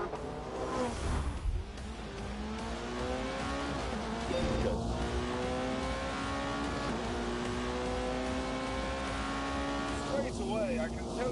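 Race cars, a McLaren and a Porsche, run shakedown laps in The Grand Tour video game, their engines revving up and shifting through gears in repeated rising sweeps, with a voice talking over them.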